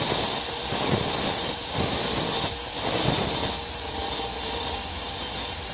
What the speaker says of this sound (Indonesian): Ini proses pemotongan pot bunga ya, menggunakan gerinda.